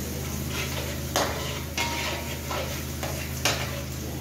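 Sania rolls frying in hot oil, a steady close sizzle broken by a few louder scrapes and stirs of a utensil against the pan, with no talking.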